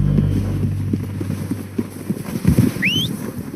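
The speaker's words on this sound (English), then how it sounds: "They're coming down with the horses." Horses trot close by in the Western video game Red Dead Redemption 2, their clip-clop hoofbeats loud and uneven, with a brief whinny near the end.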